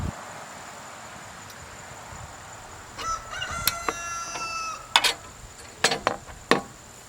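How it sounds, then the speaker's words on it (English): A rooster crows at close range while a Kubota Z-122R mower's grass catcher is being fitted outdoors, cutting in partway through with a long harmonic call and then a few sharp, broken bursts over faint insect hiss. "Sorry about the rooster. I have no idea why he just decided to start crowing."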